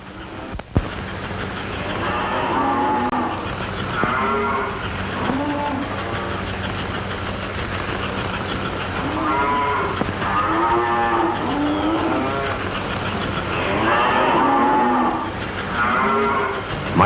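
Recorded cattle moos played from an American Flyer toy train cattle car at a model railroad cattle siding, a series of drawn-out bellows repeating every few seconds over a steady mechanical hum.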